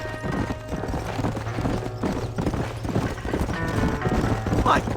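A horse gallops in Red Dead Redemption, rapid rhythmic hoofbeats pounding close and steady with a brief whinny near the end, while a voice speaks over the running.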